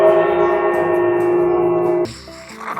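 A small bell in a cozy village house rings close and clear, its bright, sustained tone lingering for about two seconds before cutting off into quiet room noise and faint rustling.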